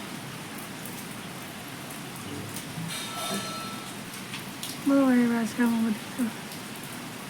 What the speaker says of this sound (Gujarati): બહાર જો એકદમ જોરદાર વરસાદ શરૂ જ છે